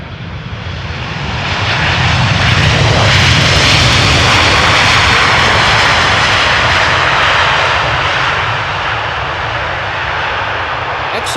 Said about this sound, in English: The Dreamliner pilot also using the reverse thrust there. Nice and loud, albeit a bit briefly.